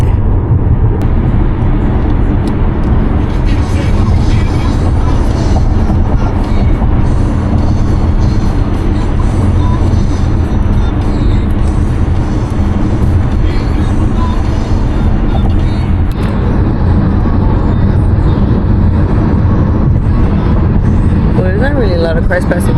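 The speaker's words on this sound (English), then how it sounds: "A lot of cars passing by over here." Cars passing along a road, heard as a steady loud rumble and road roar from inside a moving car, with occasional voices talking over it.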